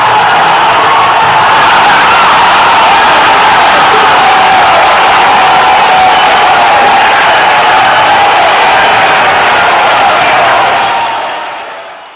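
At a fighting game tournament, a large crowd roars and cheers loudly and continuously, a dense wall of yelling that fades out at the end.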